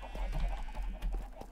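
Chickens cluck in the video game Minecraft, giving a quick string of short, close clucks over a low steady hum.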